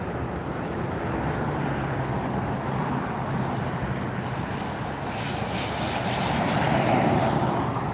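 A Southwest Airlines jet taxiing near the runway at LAX gives a steady, broad engine roar. It holds nearly constant and swells slightly toward the end, with no talk over it.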